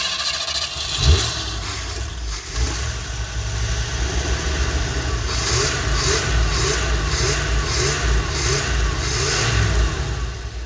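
An RV engine cranks and catches after its kill switch is flipped on, then settles into a loud, close running rumble with repeated rhythmic revving pulses throughout.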